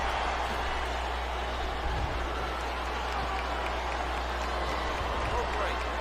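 Arena crowd in the WWE SmackDown vs Raw 2007 video game at Survivor Series cheers and applauds as a steady wash of noise under a low hum, continuous for several seconds.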